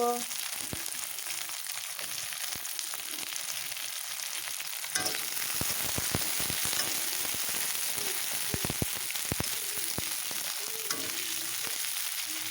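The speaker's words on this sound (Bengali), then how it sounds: "আর দিয়ে দেবো এখন এই বিন। একটু হালকা ফ্রাই করে নেব।" Beans and chopped onion fry lightly in a pan for evening Maggi noodles, making a quiet, steady sizzle. Scattered crackles and stirring taps grow denser partway through.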